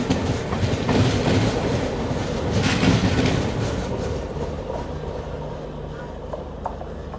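Amrapali Express 15708, bound for Katihar, passes close by on Indian rails, a loud rumbling clatter of wheels over track joints that swells then slowly fades.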